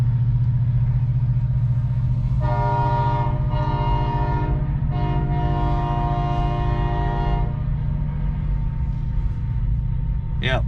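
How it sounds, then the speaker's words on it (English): A train rolls past close by at night beside a sleeping spot, a loud continuous rumble with steady low drone and rattling wagons, a horn-like tonal blare sounding in bursts over it, and a voice talking beneath. "There's a train rolling by right now."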